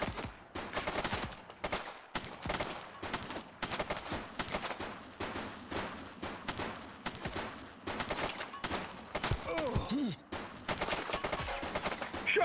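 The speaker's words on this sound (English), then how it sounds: "Shots fired!" Rapid bursts of gunfire and automatic weapon shots from a police action game crackle through most of the stretch, dense and loud, with only brief pauses between volleys.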